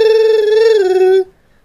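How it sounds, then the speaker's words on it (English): A telephone rings with one sustained electronic tone, loud and close, that cuts off abruptly after about a second. "I think that's my phone. Let me go answer it."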